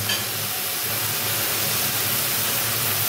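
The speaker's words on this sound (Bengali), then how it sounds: "একটু আমি এইভাবে ভেজে নেব, তাহলে মেথির গন্ধটা" Fenugreek leaves frying in a pan for arhar dal, a steady, even sizzling hiss with no breaks, close and moderately loud.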